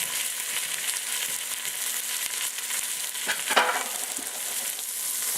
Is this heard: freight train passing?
no